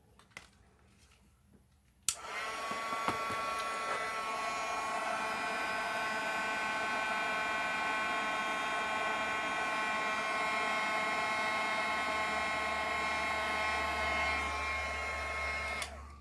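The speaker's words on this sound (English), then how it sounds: "I'm going to have to use my heat gun just for a second" A heat gun used in card making switches on after a click and blows steadily with a loud, constant whirring hiss for over ten seconds, following a quiet start.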